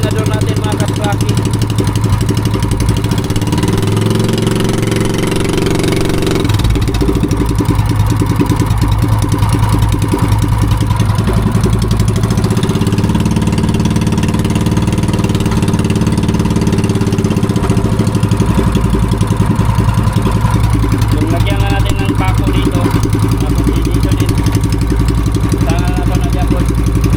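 The gasoline engine of a small fishing boat idles close by, a continuous low, loud drone with a slight change in pitch partway through and no pauses.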